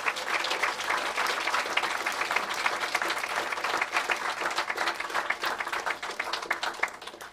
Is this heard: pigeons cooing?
no